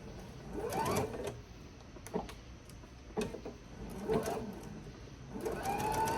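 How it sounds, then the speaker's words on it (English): A home sewing machine back-stitches to lock a seam on a reversible bag, running in several short bursts of whirring stitching separated by brief pauses, fairly close and moderately loud. "using your back stitch on your machine"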